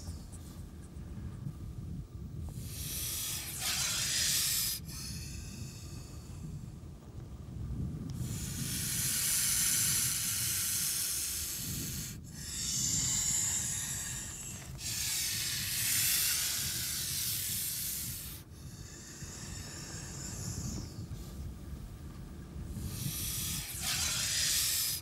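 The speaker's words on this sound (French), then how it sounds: "mais le fennec a entendu le sifflement du serpent" A horned viper hisses in long, loud breathy bursts, repeating several times with brief pauses between, close up over a low background rumble.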